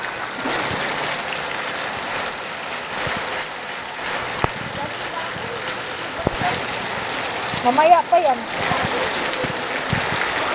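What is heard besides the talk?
heavy rain and rushing water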